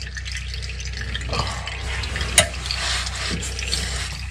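Engine oil drains from a vehicle during an oil change, a steady close liquid trickle with one sharp metallic tap partway through and no talk.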